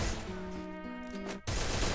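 Gunfire in the mobile shooter Free Fire: after a stretch of sustained tonal game sound, a dense, loud burst of rapid shots cuts in and carries on to the end.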